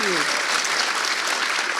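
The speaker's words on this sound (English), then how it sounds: "Round of applause for that." Dense applause from an audience at a book talk, steady and full throughout, with a brief voice at the very start.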